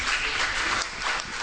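Steady, dense clapping from an audience at a Bhagwat katha religious gathering, a short continuous burst of applause with no pauses.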